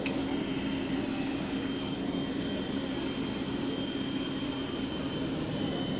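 Hong Kong Express airliner at Subang Airport being pushed back off the stand, with a steady high jet engine whine and broad rumble, constant and fairly distant, no voices.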